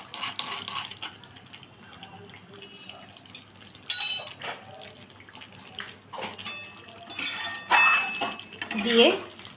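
Ghee is mixed into a milky dudh potol curry in a pan, with wet sloshing stir strokes and intermittent metallic clatter of the spoon against the pan, fairly close.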